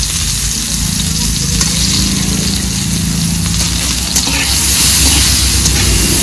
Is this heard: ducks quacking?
no